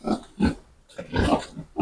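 Pigs on a farm, boars and sows kept in a new barn, grunting in several bursts close by, loud and rhythmic with short pauses between calls.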